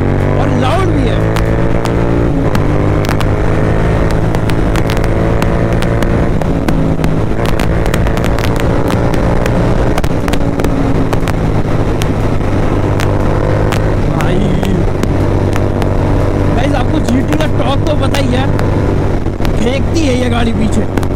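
Royal Enfield GT 650 motorcycle fitted with a loud Moto Torque exhaust, running close up with a steady, sharp, throbbing engine note that shifts pitch a couple of times across the stretch.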